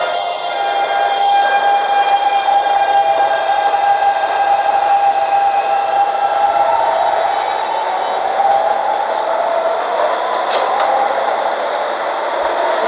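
A subway train departing a station hums and rumbles loudly up close, a steady motor whine shifting in pitch as it pulls away.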